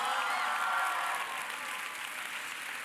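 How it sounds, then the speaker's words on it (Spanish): A church audience applauds and cheers during a sermon, a broad wash of clapping that swells and then eases slightly, heard from within the hall. "Todos tenían que haber aplaudido y gritado."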